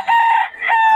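Rooster crowing loudly and close among chickens at a poultry gathering in Bocaue, two strong, drawn-out calls back to back with no talk over them.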